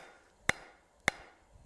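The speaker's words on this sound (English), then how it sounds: "You've got to hit this flat stock hard enough that your hammer blows go all the way through the piece" Three hard, sharp hammer strikes ring out on flat steel stock during hand forging, evenly spaced about half a second apart, each loud and brief with a bright metallic ring, with quiet background between blows.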